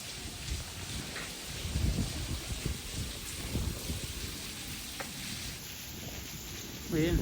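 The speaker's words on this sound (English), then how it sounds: "The monsoon came back. Super rainy." Heavy monsoon rain pours at the southern gate of the old imperial capital in Nara, a steady broadband wash with scattered heavier drops and gusts, fairly close and continuous throughout.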